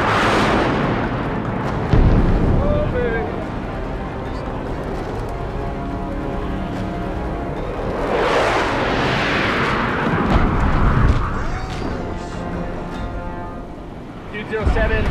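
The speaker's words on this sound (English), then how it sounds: "Good bombs, good bombs." Heavy bomb blasts strike a Taliban position, a huge rumbling detonation near the start and another big booming surge midway, long rolling echoes trailing off, with voices talking over the aftermath.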